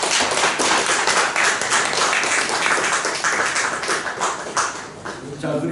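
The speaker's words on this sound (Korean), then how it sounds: "전해 주실 때 큰 박수 쳐주시기 바랍니다." A church congregation applauds at a Sunday worship service, dense and sustained clapping from many hands that fades slightly toward the end.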